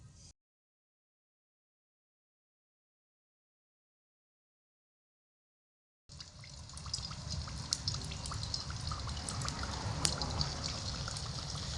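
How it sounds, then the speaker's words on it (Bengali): Potato jalebis dropped into hot oil fizz and sizzle with a steady crackling bubbling that starts suddenly after a stretch of silence and continues close and even until the end. "তো এবার আমি তেলের মধ্যে একে একে এই জিলাপিগুলো ছেড়ে দেব।"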